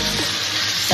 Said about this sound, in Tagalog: Gisadong-gisado na.